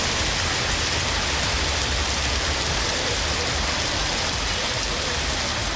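Steady rain falls over town streets in Pudukkottai, a dense, even hiss of drops spread across the whole stretch with no pauses, and no voices or other sounds.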